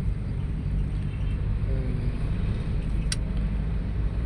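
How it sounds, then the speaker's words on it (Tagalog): Steady road noise from inside a car driving through traffic in Manila, a constant low rumble with a brief high hiss near the end, and no one talking. "yung traffic dito mga kaibigan."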